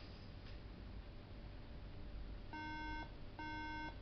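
Two short electronic beeps sound from a broken MacBook Pro over a quiet hiss, evenly spaced near the end.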